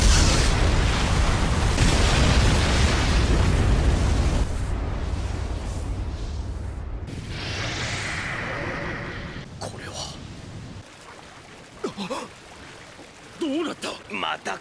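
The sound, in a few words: Ten-Tails' tailed beast bomb resonance explosion in Naruto anime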